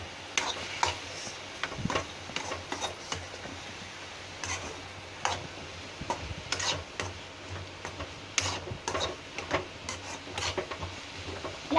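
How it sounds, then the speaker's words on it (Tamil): Masala is stirred lightly in a pan, a spoon giving scattered clicks, taps and scraping strokes in an irregular rhythm, close and fairly quiet, with no one speaking. "எல்லா மசாலாவையும் சேர்த்துட்டு லைட்டாக ஒரு வாட்டி கிண்டிக்கோங்க."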